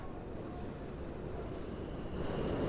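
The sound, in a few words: elevated M subway train leaving Hewes Street station, Brooklyn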